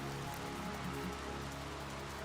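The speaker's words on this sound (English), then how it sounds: "Just the atmosphere, all the rain, and all that good stuff." Steady rain ambience in the video game Syphon Filter, a constant soft hiss of falling rain on surfaces with a faint low hum beneath, even and unbroken, with no voices.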